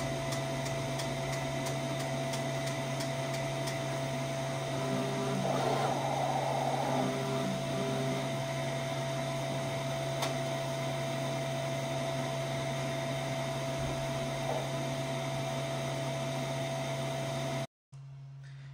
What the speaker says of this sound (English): we first have to wait for that nozzle check to print